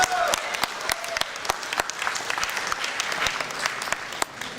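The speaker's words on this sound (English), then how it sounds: "Give yourselves a big round of applause." A conference audience applauds loudly, a dense, continuous wash of clapping that holds steady and fades slightly at the close.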